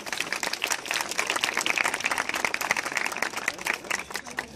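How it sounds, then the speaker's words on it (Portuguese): Audience applause at a community event, a moderately quiet, steady patter of many hands clapping from a smaller crowd, continuing evenly throughout. "vamos dar uma salva de palmas."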